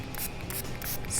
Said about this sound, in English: spray that with water.